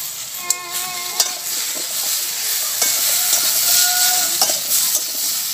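Vegetables frying lightly in a pan with salt give a steady hissing sizzle, broken by a few sharp spatula knocks as they are stirred, heard up close with no speech.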